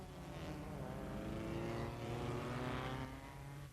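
Lancia Ferrari V8 Formula 1 cars racing flat out at the 1957 German Grand Prix: a steady, droning engine roar at a distance, rising and falling gently as the cars sweep past, with no voices.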